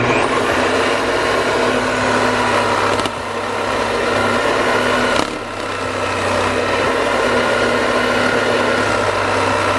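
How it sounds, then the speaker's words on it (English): A jigsaw cutting plastic panel for a car audio installation, a loud, continuous high-pitched buzzing motor whine with a steady blade rasp, briefly dipping twice as the cut pauses, alone and close. "let me show you how you do want to cut it if you have to cut it on a jigsaw"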